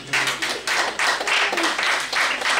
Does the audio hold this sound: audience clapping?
yes